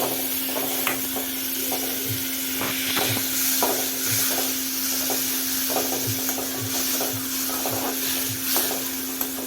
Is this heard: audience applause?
no